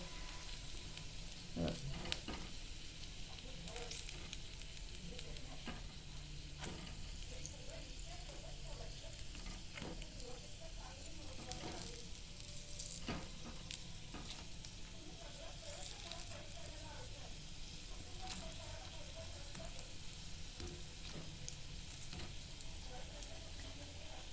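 Pea cutlets shallow-frying until golden, giving a faint, steady sizzle and crackle with occasional small pops throughout.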